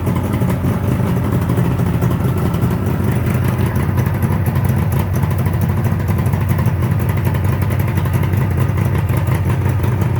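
A 1976 Suzuki GT750A motorcycle engine, freshly rebuilt and started stone cold, idles steadily and loudly for the whole stretch, with a dense low rumble and a mechanical clatter on top.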